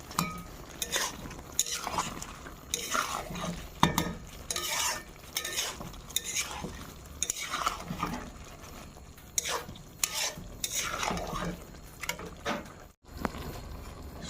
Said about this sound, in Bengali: সবগুলো একসাথে 10 মিনিট কষিয়ে নেব।